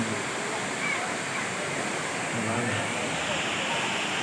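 The Courtallam Main Falls in Tenkasi, India, running low, roars and rushes continuously, a dense, steady wash of falling water close by.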